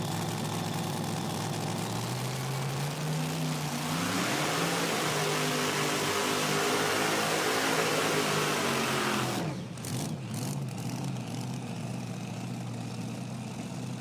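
A pulling tractor with a Sassy Racing engine roars at a night pulling event at Darana Motorsports Park in Dunn, North Carolina, rising in pitch as it drags a sled, loud and sustained, then shifting abruptly near the end.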